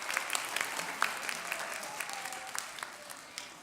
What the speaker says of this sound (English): So wave your hands, clap for Bigelow.